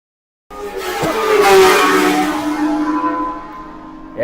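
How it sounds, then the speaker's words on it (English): A classic BMW racing motorcycle at a classic bike festival, its engine revving up loudly from nearby and holding a sustained high roar before easing off slightly. "Jeff McMullen is riding Ryan Gibson's BMW"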